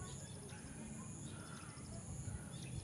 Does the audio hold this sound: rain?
no